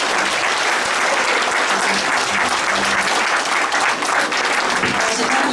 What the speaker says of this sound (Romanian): Haideți, vă rog, să auzim multe, multe aplauze.